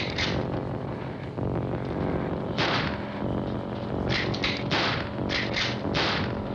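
Gunfire in the 1968 horror film Night of the Living Dead: several sharp shots ring out in a quick irregular series over a dense, noisy film soundtrack.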